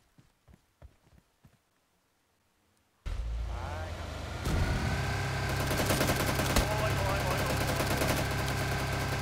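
Bursts of automatic gunfire ring out in PUBG Lite, aimed at a car, after a few soft clicks in near silence; a loud, sustained barrage with engine rumble follows and builds in intensity.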